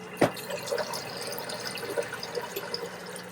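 Water trickles and splashes as a pump fills an automated plant watering system, with a sharp initial splash followed by gentle drips and gurgles, close by.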